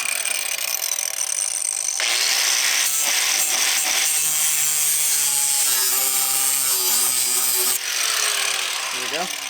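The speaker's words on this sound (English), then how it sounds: "So I'm going to make a little cut. And just don't go too deep." A power tool cutting a small slit in 4th gen 4Runner sheet-metal bodywork near the pinch welds: loud, close grinding and whining with rising and falling pitch, pausing briefly near the end.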